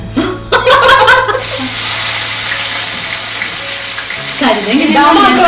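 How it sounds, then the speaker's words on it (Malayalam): Onion, potato, green chilli, ginger and garlic fry in hot oil with a loud, continuous close sizzle, stirred now and then, while people talk and laugh briefly at the start and end. "സവാളയും ഉരുളക്കിഴങ്ങും വറുത്ത് വരിക എണ്ണയിലേക്ക് പച്ചമുളക്, ഇഞ്ചി, വെളുത്തുള്ളി"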